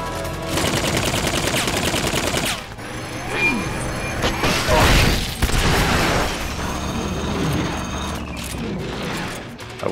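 Bursts of machine gun fire in the video game Metal Gear Solid Peace Walker, during the Pupa Custom boss fight played on the PPSSPP emulator, rattle loudly alongside clanking mechanical noises and sharp impacts, with no talk.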